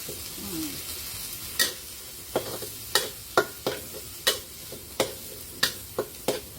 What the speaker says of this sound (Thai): เราทำการผัดเลยนะคะผัดเครื่องให้หอม